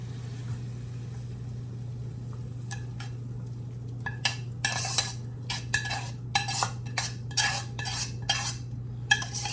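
Hamburger meat, potatoes, onions and cheese being scooped into a baking dish for a casserole: a quiet start, then a run of sharp utensil clinks and scrapes against cookware over a low steady hum.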